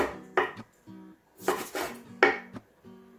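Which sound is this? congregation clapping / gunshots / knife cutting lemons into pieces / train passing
knife cutting lemons into pieces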